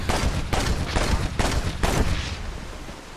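Gunfire from the Red Dead Redemption video game: a burst of four or five loud, sharp shots at roughly half-second intervals, each trailing into a rumbling reverberant tail that fades away, with no talking.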